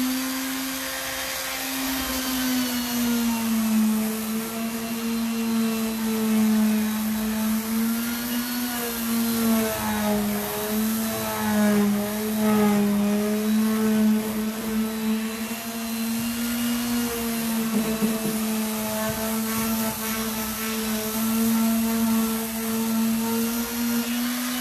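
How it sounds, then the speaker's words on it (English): A small electric mouse sander whines loudly and continuously up close, its pitch wavering slightly as it is pressed against a wooden porch planter to distress it. "use the mouse sander to make it a little bit more distressed"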